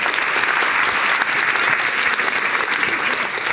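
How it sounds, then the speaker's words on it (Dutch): A crowded lecture audience at an Amnesty International privacy debate in Leiden claps warmly, a continuous, even roar of many hands lasting the whole moment with no talk on top. "Geeft u hem een warm applaus"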